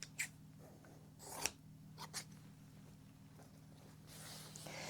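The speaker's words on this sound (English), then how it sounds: "The goal is to go from one corner to the other. So just trim your fabric to that." Scissors trim fabric for a string quilt block, a few quiet, sharp snips spaced apart over a faint low hum, with no talking.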